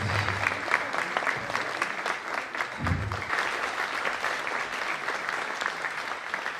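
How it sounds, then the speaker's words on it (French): An audience applauds a candidate at the Reine de la Dentelle pageant, with sustained, moderately distant clapping from a large crowd and a couple of low bumps partway through. "On peut applaudir ce soir."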